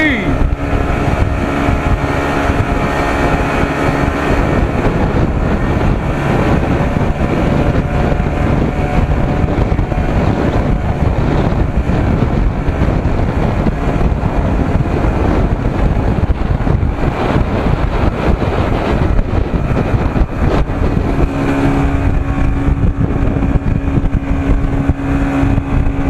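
A boat powered by a 55 hp Evinrude outboard motor runs at mid speed, its engine a loud, steady drone mixed with heavy wind buffeting and water rush, continuous throughout.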